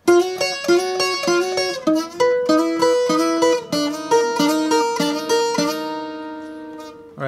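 Requinto guitar picking a melody of chords, each note bright and plucked in a steady rhythm with sliding moves between notes, close and loud with no talk.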